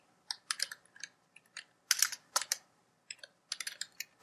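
Someone types a button ID on a computer keyboard while building an Android quiz app. The keystrokes come close and crisp in short, uneven bursts with brief pauses between them, and no voices are heard.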